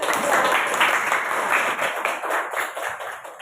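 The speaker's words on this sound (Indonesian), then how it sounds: "Berikan tepuk tangan untuk" A classroom of pupils claps together, loud, close and continuous with an uneven rhythm, swelling and dipping slightly before tapering near the end.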